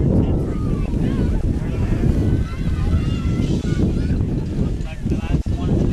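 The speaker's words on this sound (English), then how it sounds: "The wind is gusting up quite nicely now all of a sudden again" Strong wind gusts roar and buffet the microphone at an outdoor high school football game, a steady heavy rumble with fluctuating swells lasting several seconds and no clear voices.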